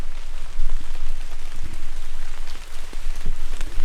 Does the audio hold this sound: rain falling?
yes